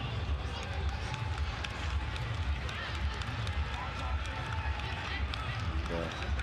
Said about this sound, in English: You can already tell there is a strident Trinidad and Tobago crowd.